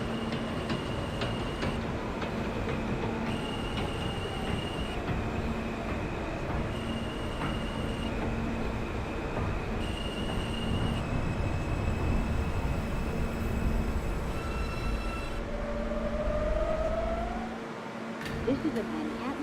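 An R160 New York subway train on the J local line running in the OpenBVE train simulator: steady rumbling motor and wheel noise with tonal whines and a brief wheel squeal near the end, loud and continuous.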